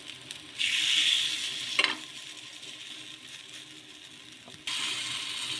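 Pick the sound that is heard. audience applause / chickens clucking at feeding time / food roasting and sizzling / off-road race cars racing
food roasting and sizzling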